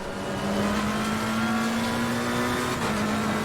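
A race car engine in Assetto Corsa Competizione drones loudly and steadily at high revs, with a brief pitch dip near the end, heard alone without talk.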